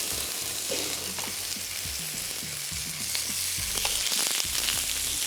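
Chapli kebabs fry in a hot pan with a steady, close crackling sizzle, broken by soft scrapes and clicks of stirring that grow a little busier toward the end.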